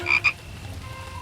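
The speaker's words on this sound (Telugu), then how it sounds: "అరే భలే, కప్పతో ఆడుతూ వానలో ఉన్నారా బుజ్జి టూకీ ప్యారీ?" A cartoon frog in a rainy-season scene gives two short, bright croaks in quick succession, followed by a quiet, low background hum.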